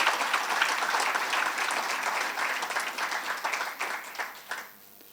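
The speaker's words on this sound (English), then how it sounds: "I think you need to give her a real big round of applause for that" Audience applause at the 2017 GraceKennedy/Heather Little-White Household Workers Awards ceremony, dense steady clapping from a full room that holds for several seconds and then thins out toward the end.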